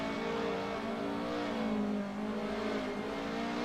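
Cars in a touge racing video game sweep through a tight left-hand double-apex corner, with a steady, droning engine note that rises and falls slightly and continues throughout.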